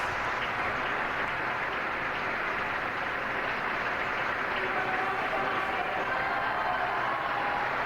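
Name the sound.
crowd applauding and crying Viva el Papa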